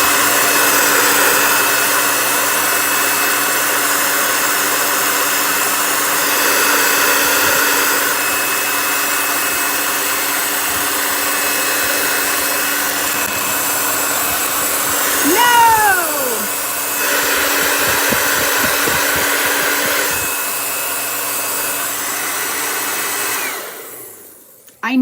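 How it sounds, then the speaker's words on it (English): A hair dryer blows steadily at close range to dry small snowman craft pieces, a continuous broadband whoosh that runs for over twenty seconds, with a brief squeaky sweep partway through before it cuts off at the end. "Let's go ahead and dry them really quick."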